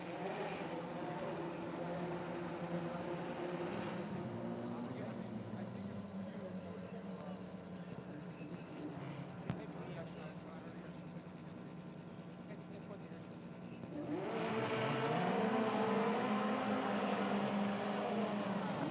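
Racing snowmobile engines at a Wisconsin nitro drag event fire up and drone together, a steady rough mechanical roar that swells louder near the end, with voices faintly mixed in.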